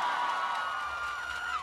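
Concert crowd at a radio station birthday show cheering and whooping in a sustained roar, with whistle-like cries rising over the noise.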